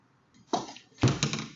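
Two heavy thuds on a door, the first a single knock and the second a louder burst of pounding, close by with no talk.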